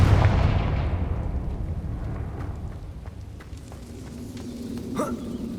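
Confringo fire spell explosion in the Hogwarts Legacy video game: a heavy booming blast opens the clip and rumbles away, followed by a sharper crackling burst near the end.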